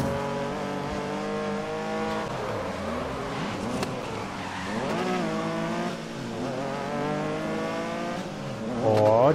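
Race car engines in the video game GRID during a Classic GT Tour race, chasing a Porsche: several loud, close engines revving and shifting through gears, with rising and falling pitch, brief tire squeal and a final surge of acceleration.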